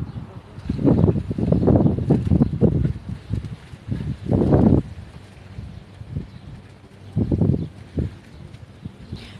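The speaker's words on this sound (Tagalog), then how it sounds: "Masyadong malakas ang hangin." Strong wind gusts buffet the microphone outdoors at a birthday gathering, coming as loud rumbling bursts between quieter stretches. Voices may be faintly present underneath.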